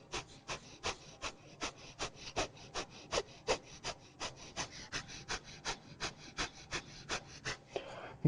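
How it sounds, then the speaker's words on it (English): Rapid rhythmic breath of fire in yoga: a steady train of sharp, forceful nasal exhales, about three per second, close and even, continuing throughout without speech. "breath of fire"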